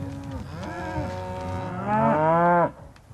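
A single cow moos loudly and close by, one long drawn-out low call that rises in pitch before cutting off.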